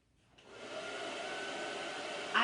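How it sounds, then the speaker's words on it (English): A blow dryer on its cold setting whooshes up and holds a steady airy roar while drying paste next to transfers on a fall bistro sign, a small bump of handling noise near the end. "we're going to hit that with just the blow dryer real quick"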